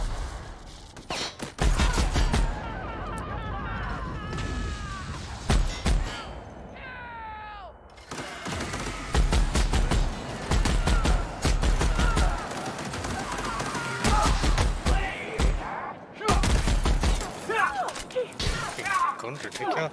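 Gunfire from a gun in the video game The Outer Worlds rattles in dense rapid bursts across the whole stretch, loud and close, with brief lulls and a voice talking over parts of it.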